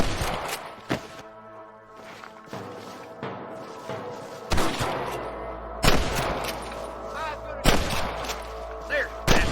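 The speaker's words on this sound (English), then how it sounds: "There, I can hear more gunshots." Gunfire in the Red Dead Redemption video game, a run of sharp loud shots and heavier thuds spaced irregularly across several seconds, with game voices and background sounds between them.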